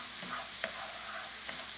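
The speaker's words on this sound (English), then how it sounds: "Look at those mushrooms. They're browning up really nice in the chicken fat." Mushrooms browning in rendered chicken fat sizzle steadily in a pan, with a couple of soft stirring scrapes breaking through the constant frying hiss.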